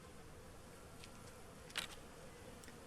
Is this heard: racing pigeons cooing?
no